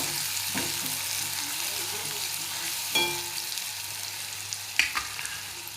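Crushed ginger and garlic sauté in a pan for a soybean mince with potato and cauliflower, a steady close sizzle broken by a few sharp spoon scrapes and clinks as it is stirred; no voice is heard.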